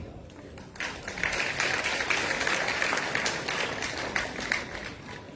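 A crowd applauds steadily at a Nigerian Security and Civil Defence Corps Commandant General's parade, with dense, sustained clapping that swells after a quieter opening and holds at moderate loudness.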